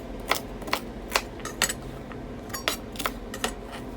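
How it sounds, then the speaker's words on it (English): A knife chops celery into chunks on a cutting board, about ten sharp, evenly spaced knocks in quick succession, close and clear with no talking. "then chop the celery into chunks"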